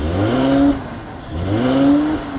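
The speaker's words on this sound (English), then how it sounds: "Engine sounds great." Engine of a 2015 Mercedes-Benz C-Class revving twice, each rise a smooth rising whine with harmonics that swells and drops back, close and moderately loud with no talk.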